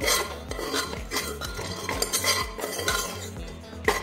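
A spoon stirs ground peanut powder into a spicy vegetable curry in a metal pan, scraping and clinking against the pan in quick, irregular strokes, close and clear with no talk.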